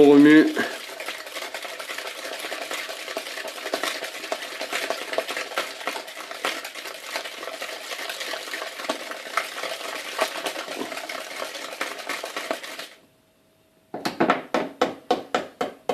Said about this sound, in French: Et on remue bien, toujours au fouet.